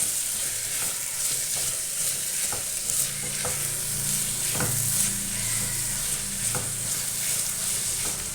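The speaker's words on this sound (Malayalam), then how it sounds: "കുറച്ച് ഉപ്പും കൂടി ഇട്ട് കൊടുക്കുക. എന്നിട്ട് നല്ലപോലെ വഴറ്റുക." Chickpea curry masala with ginger, garlic and salt sautéing in a pan, a steady close sizzle broken by occasional scraping stirs, with no talk.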